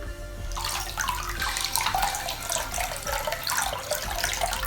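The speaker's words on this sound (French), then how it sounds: "La prothèse est ensuite rincée." Running tap water pours steadily over a dental prosthesis being rinsed, a close, continuous splashing hiss with no speech.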